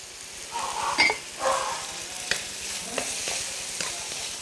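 Green beans, shrimp and tomato sizzle in a pan during a stir-fry, with a steady low hiss and a few scraping stirs, close and moderately loud, without talk.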